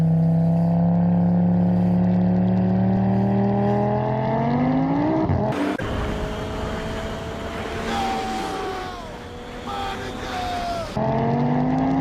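Two Audi RS3s roll racing, one built to 1000 hp, with a loud engine note climbing steadily as they accelerate, then a roaring rush of wind and exhaust at speed and shifting engine pitch.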